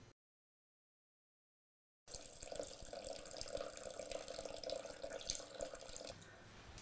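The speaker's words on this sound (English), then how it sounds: "Now we'll add 200 grams of wine" Wine poured into a Thermomix bowl holding sautéed shallot and asparagus for risotto: a steady, soft liquid stream that starts after a brief silence and runs for several seconds at close range, with no talking.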